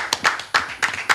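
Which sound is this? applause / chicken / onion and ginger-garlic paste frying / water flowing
applause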